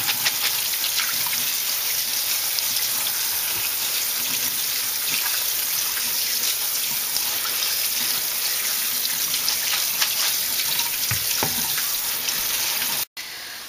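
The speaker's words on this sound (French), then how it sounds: "Et puis, on les met sous l'eau froide." Cold tap water pours steadily into a sink over cooked pasta noodles to stop the cooking, a continuous close hiss and splash that runs unbroken before cutting off abruptly near the end.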